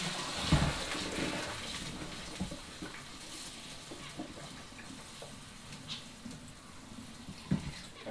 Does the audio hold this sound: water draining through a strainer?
yes